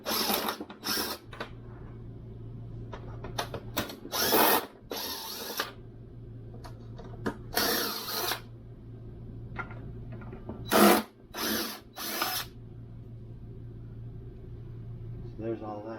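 A power drill backs screws out of a panel inside a Jayco Jay Feather SLX 212QBW camper, whirring in short, sharp bursts separated by pauses, close and fairly loud over a low background hum.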